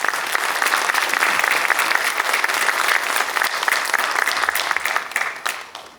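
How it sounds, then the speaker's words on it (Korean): Audience applause at a residential-development talk event, a steady wash of clapping from a modest crowd that holds for several seconds before tapering off. "많은 박수 부탁드립니다."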